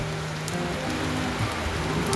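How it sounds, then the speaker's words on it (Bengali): Light rain patters steadily on surfaces around a resort in the Gorumara jungle under an overcast sky, a soft continuous hiss with faint drips, nearby and unbroken. "একদম মেঘলা আকাশ, বৃষ্টি পড়ছে হালকা হালকা।"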